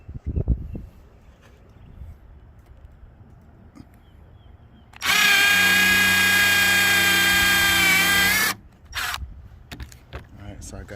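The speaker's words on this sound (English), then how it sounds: "So I got those starter holes drilled in" A power drill bores starter holes into old pallet wood, a loud steady high whine lasting about three and a half seconds and then stopping, followed by a few brief clunks, with quiet handling noise before it.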